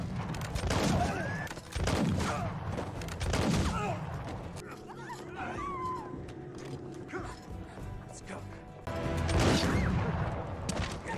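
Gunfire in a Western-style scene from a Westworld episode, with loud bursts of shots and crashes around the start and again near the end, mixed with score music.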